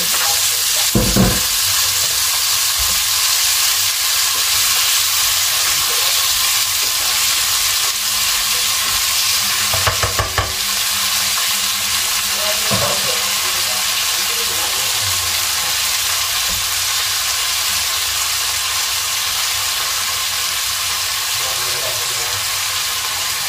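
Broccoli being stir-fried in a pan, a steady close sizzle and hiss of frying running throughout, with a few louder bumps and scrapes from stirring around the first and tenth seconds.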